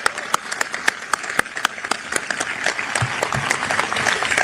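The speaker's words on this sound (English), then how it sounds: "Give them a big round of applause" An audience gives sustained applause at Adm. Holsey's change-of-command ceremony at SOUTHCOM headquarters, with steady dense clapping and crisp individual claps standing out.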